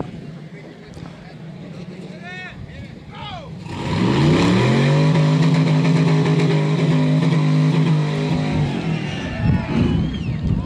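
A fairly stock off-road race car crawling through a rock garden during a King of the Hammers qualifier, its engine swelling to a loud, sustained revving drone, with people talking nearby before and under it.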